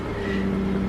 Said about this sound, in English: what we're going to do is start the vehicle up